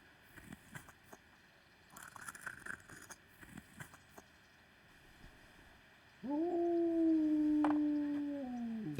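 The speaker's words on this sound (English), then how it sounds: "That's a noisy dog." A dog howls in the medieval video game Kingdom Come: Deliverance. After a few seconds of faint patter, a loud, sustained, wavering howl starts and holds for about three seconds.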